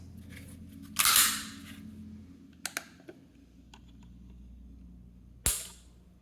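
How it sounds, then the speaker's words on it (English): The trigger of a Springfield Echelon pistol is pulled and snaps with sharp, dry mechanical clicks. There is a louder click near the start, a few small ticks in the middle and one crisp snap near the end, all close and in a quiet room. "It's a pretty light trigger pull."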